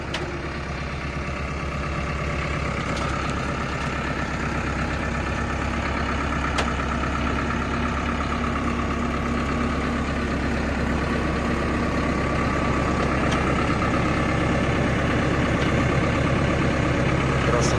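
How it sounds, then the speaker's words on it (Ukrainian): A new Basak 2110S tractor engine idles steadily close by in frosty weather, a low continuous rumble with faint clicks and no change in pace. "тракторець працює"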